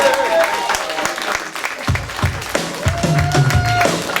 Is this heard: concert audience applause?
yes